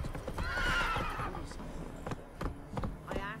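A horse in the video game The Witcher 3 whinnies, then its hooves clip-clop in a sparse run of sharp knocks, with game ambience underneath.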